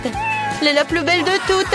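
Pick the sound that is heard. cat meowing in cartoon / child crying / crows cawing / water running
cat meowing in cartoon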